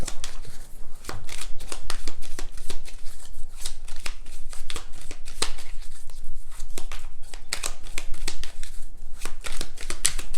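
Tarot cards shuffled by hand for a reading, a rapid, continuous run of crisp riffling slaps and flutters, loud and close, with no talk over it.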